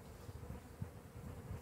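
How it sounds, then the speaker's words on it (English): Attendant bees buzz around a caged Italian queen during queen introduction, a low continuous hum that is close and faint, with no voices. "those attendant bees don't want to go away"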